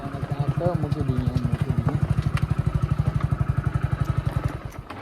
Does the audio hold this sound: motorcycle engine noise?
yes